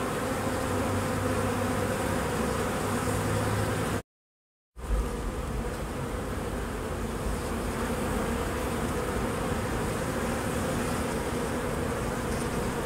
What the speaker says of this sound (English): I reach down into the pile of bees and let the queen walk out